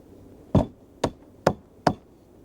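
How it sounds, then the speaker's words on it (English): Four evenly spaced, crisp strikes of a chisel clean out a shallow dado cut in deck framing wood after saw passes, each hit a sharp dry knock with a short decay, close and alone in a quiet shop. "and a little cleanup with the chisel."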